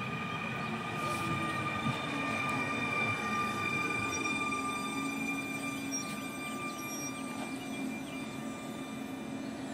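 A Sprinter passenger train bound for Zwardoń rumbles in close at Tychy station, Poland, with steady wheel noise and faint high squealing from the rails as it rolls slowly along.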